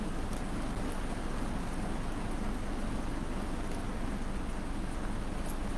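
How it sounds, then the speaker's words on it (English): Heavy, severe rain pours down in a dense, steady roar of broadband hiss with no pauses, constant in level and moderately loud throughout. "we were getting some severe rain"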